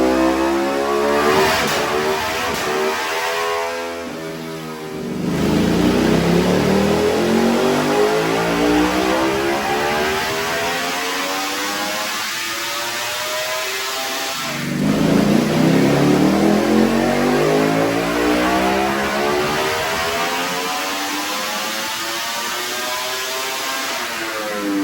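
Ducati V4 Superleggera superbike engine loud and close on a dynamometer, climbing through two long full-throttle pulls with rising whine, a brief dip and lift between them, then holding a steady high roar to the end.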